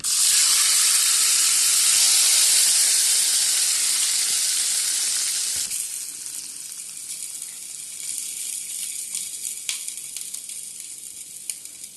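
Hot mustard seed tempering is poured into lemon pickle, giving a loud, bright hiss and sizzle that fades gradually to a softer crackle, followed by a few light clicks.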